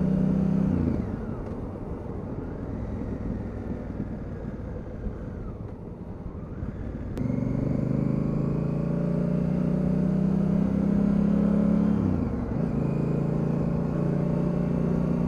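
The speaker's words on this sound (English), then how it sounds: "the quick shifter blips the throttle" A 2019 Honda CRF1000L Africa Twin motorcycle pulls steadily under way with a loud, continuous engine drone, broken by brief dips and pitch shifts as the quick shifter snaps through gear changes with a throttle blip.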